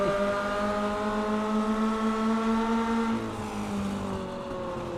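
A mini stock race car engine in iRacing at USA International Speedway whines at a steady high pitch, then drops sharply as it downshifts, holding a lower buzzing tone afterward.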